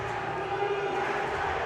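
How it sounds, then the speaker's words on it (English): Crowd cheering at a collegiate powerlifting competition, a steady wash of voices and shouts in a large hall, continuous for the short stretch. "And the crowd here is getting very riled up."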